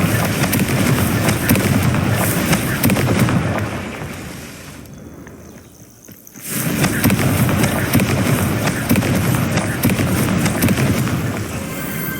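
A Confringo fire spell explodes in the Hogwarts Legacy video game as a loud, dense crackling roar of fiery blasts. It drops away briefly midway, then surges back at full strength and carries on to the end.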